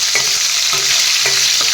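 Fish pieces fry in a wok with a close, steady sizzle, broken by a few soft scrapes as they are stirred.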